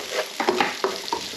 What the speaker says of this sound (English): I'm just going to add the tomatoes in there